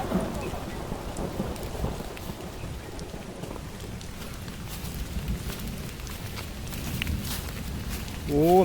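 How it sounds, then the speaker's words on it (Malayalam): Heavy rain pouring in a deep forest during a rainstorm, a dense steady wash of falling water with occasional rustling footsteps over dry leaves, fairly loud and continuous. "ഓ നല്ല മഴ"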